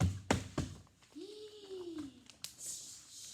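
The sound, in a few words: knocking imitated by a storyteller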